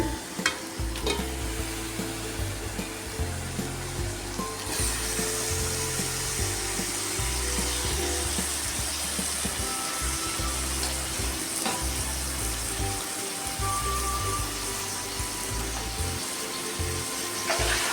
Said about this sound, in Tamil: சிக்கன் அலாசி வச்சுருக்கேன் அதை எடுத்து போட்டுக்கிட்டேன்